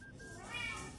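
A cat meows loudly and insistently at a house door, one drawn-out, rising call that fills the short moment up close, with no talk over it.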